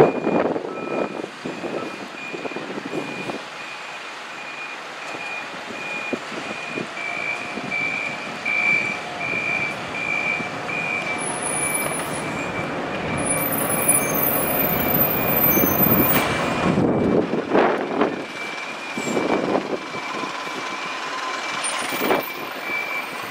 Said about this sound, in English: Here comes the bus I've just come upon.